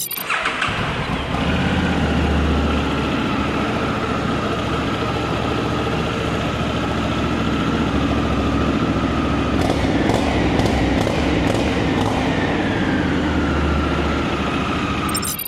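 A Honda Africa Twin 1100 Adventure Sport motorcycle engine idles steadily and loudly up close, a continuous low rumble with a few brief ticking sounds partway through.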